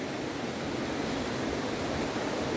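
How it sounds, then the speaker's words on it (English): River water rushing and barreling past gives a dense, steady, broadband roar with no pauses, loud and enveloping throughout. "where that water is just barreling"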